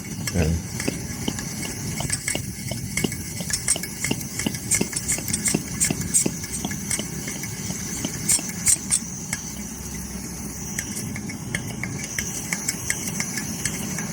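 Coleman 533 dual fuel compact camping stove being pumped and primed, a rapid, uneven run of close clicking and tapping over a low hiss, with someone speaking briefly.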